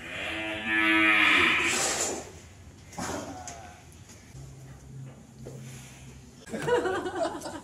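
A Simmental cow moos loudly in a long, low drawn-out call, followed by softer rustling and brief lowing, with farm background noise and a faint voice near the end.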